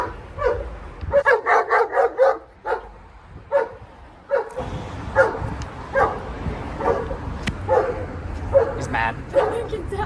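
German Shepherds bark repeatedly in quick bursts close by inside a car, with yips and whimpers mixed in.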